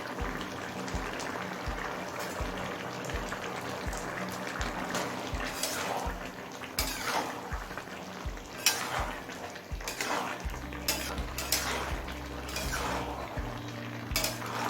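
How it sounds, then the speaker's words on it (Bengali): Chopped coriander leaves being stirred into a mixed vegetable curry with prawns, with steady clinks and scrapes of a spoon against a metal pot, a low continuous background hum, and soft stirring sounds throughout. "ধনে পাতাটা দিয়েও ভালোভাবে মিশিয়ে নিলাম"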